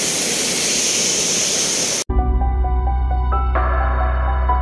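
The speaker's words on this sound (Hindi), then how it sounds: "बहुत आवाज़ आ रहा है ना झरने का, ये सब आवाज़ झरने का" A waterfall near Kondeshwar temple produces a loud, continuous rushing hiss for about two seconds, then cuts abruptly to tonal music.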